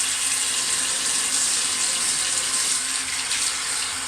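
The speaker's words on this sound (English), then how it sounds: "So just going to splash some hot water in my face." Water runs steadily from a bathroom tap into a sink while it heats up, a continuous close hiss and splash with no talking.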